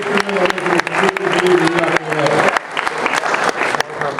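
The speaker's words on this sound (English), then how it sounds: "Give her a big round of applause." An audience at a boxing press conference for Hopkins vs. Dawson bursts into close, loud applause with some cheering, and voices are heard through the clapping.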